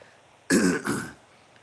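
A single harsh cough or throat-clearing burst, close and fairly loud, with a short second push right after, then quiet.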